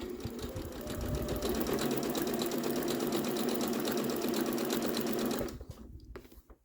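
A sewing machine runs steadily, stitching a self-binding doll quilt with a fast, even whir up close for several seconds before slowing and stopping.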